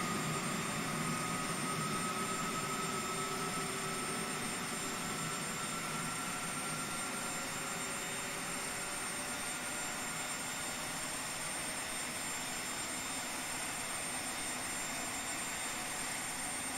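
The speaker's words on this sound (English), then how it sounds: "Second engine start." An airliner jet engine spools up during startup in the X-Plane 11 flight simulator, a steady, fairly quiet whine and rushing roar with faint tonal hums holding throughout, with no talking.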